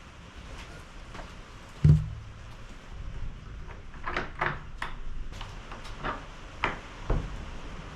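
The engine hatch cover on a 1980s Donzi boat is opened with a heavy thump followed by scattered creaks, knocks and rattles as it is lifted and handled.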